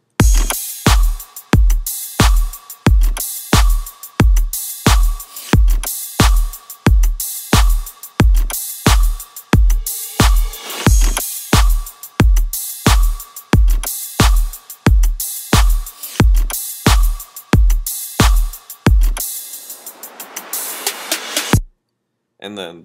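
A future-style beat with the drums and effects soloed: a steady, punchy kick-and-percussion loop repeating evenly, closing with a rising noise sweep and a brief drop to silence.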